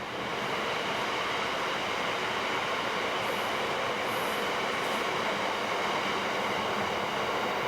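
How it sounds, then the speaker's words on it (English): A steady, loud rumble of a train rolling past overhead, continuous and dense throughout with no voices. "I can get that train going over."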